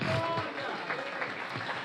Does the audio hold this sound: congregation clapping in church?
yes